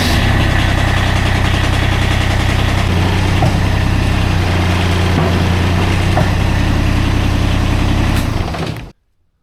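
A Kubota lawn tractor engine runs at a steady idle, a loud, close, throbbing mechanical drone with constant low vibration, holding evenly for about eight seconds before being shut off abruptly.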